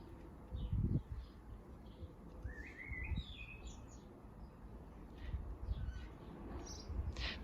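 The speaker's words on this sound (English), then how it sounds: "just listen to those birds." Birds sing and chirp outdoors near a craft studio, with varied short tweets and warbling phrases at moderate distance over low background rumble from nearby work.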